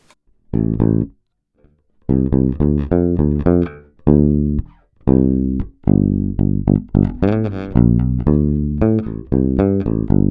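A muted bass guitar, back pickup with tone wide open, played straight into a DI, gives short, thumpy plucked notes with a dry, direct tone, phrased in bursts with pauses between.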